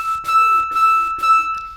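A NuRad wind controller sounds three short, crisp synth notes of the same pitch, each sharply tongued with a T syllable and separated by brief gaps, loud and close.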